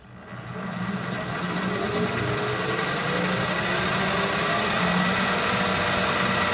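A metal lathe spinning a boring bar held in the chuck, a steady mechanical whir that rises in the first second and then runs evenly and fairly loud throughout, with no talk.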